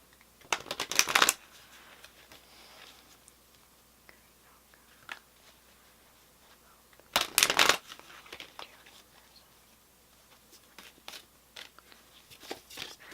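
A tarot card deck is shuffled in two loud riffling bursts, separated by quieter handling and soft rustles close to the microphone.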